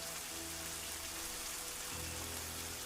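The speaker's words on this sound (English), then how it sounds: "The rain continues to fall, washing the slate clean" Steady rain falls through the night at Angkor, a constant soft hiss of drops on surfaces with low tonal hums running underneath.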